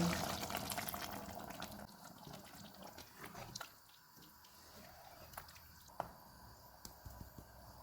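Water is poured into a pot of mutton browning with spices for a mutton handi, a faint wet splash and trickle that fades after the first couple of seconds, followed by quiet drips and small sizzles.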